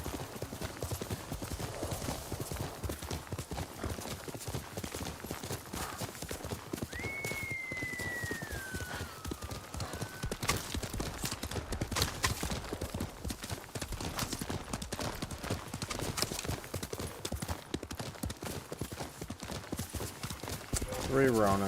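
Horse hooves clip-clop at a steady galloping rhythm in Ghost of Tsushima, close and continuous for the whole stretch, with a whinny rising partway through and a voice talking over it.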